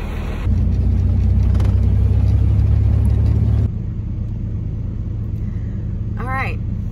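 A truck engine rumbles low and loud nearby, holding steady for a few seconds before dropping to a quieter idle, with a brief voice near the end.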